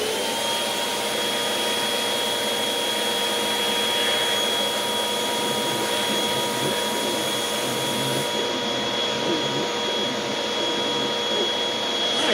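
A Hoover Windtunnel 2 HC Pet vacuum cleaner runs steadily over fabric, a loud continuous motor whine and airflow roar with a constant tone and no speech.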